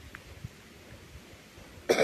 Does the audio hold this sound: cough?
yes